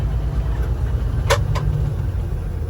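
Peterbilt semi truck with a big cam Cummins engine and 13-speed transmission running, a steady deep low rumble close by, with a couple of brief sharp clicks in the middle.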